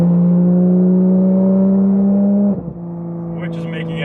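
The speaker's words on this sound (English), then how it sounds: "This one has a crazy, I believe it's called Soul Performance race exhaust." A loud, steady engine drone from a 992 Porsche 911 GT3 with a Soul Performance race exhaust holds a constant pitch, then briefly dips and falls quieter before settling into a lower rumble.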